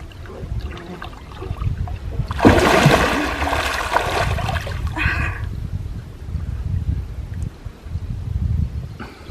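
Someone wades and swims in warm lake water at Linnansaari, Saimaa National Park in Finland. A loud burst of splashing and churning rises and fades, followed by softer sloshing and dripping close by.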